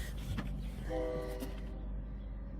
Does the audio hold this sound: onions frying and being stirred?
no